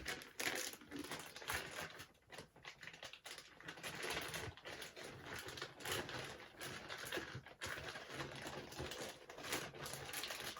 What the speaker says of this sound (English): Sorry about the noise of me unwrapping stuff.